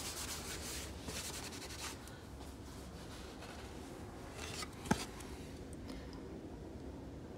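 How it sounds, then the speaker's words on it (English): Soft, close rubbing strokes of sandpaper over a small wooden layered bunny cutout, quiet and continuous with one sharp tap partway through, no talk. "after I'm done sanding"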